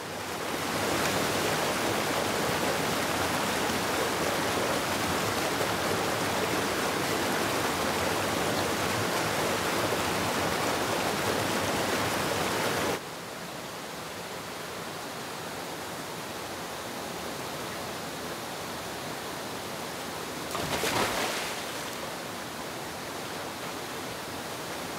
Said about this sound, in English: 21 waterfalls in the heart of the forest